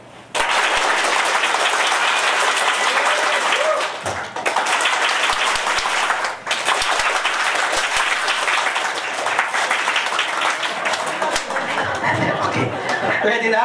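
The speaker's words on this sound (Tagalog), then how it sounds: "Palakpak." An audience claps in loud sustained applause for over ten seconds, with a couple of brief dips, and voices and laughter mixed in beneath it.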